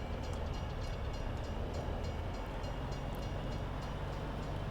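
A freight train on the Canadian Railway in a Saskatchewan grain-farming game rumbles and rolls continuously, a steady loud mechanical drone with faint rhythmic clatter and no voices.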